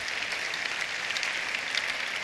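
Church congregation applauding during a Sunday service, a steady dense wash of clapping held at an even level throughout, with no voices standing out.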